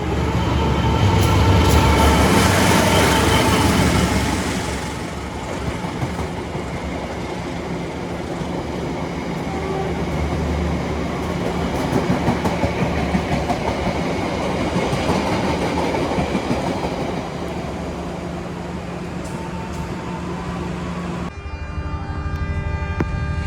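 The Kahuripan passenger train passes close on the rails in Indonesia, a loud steady roar and rumble of wheels that swells early and then holds as the cars go by.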